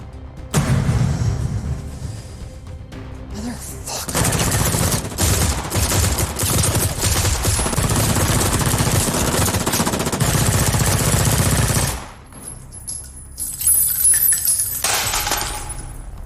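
Repeated gunfire from a militia in an action film, a dense sustained burst of rapid shots lasting several seconds, loud and close, followed after a brief lull by more shooting and metallic clinks.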